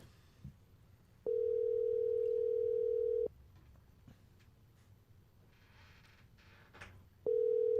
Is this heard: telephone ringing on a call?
yes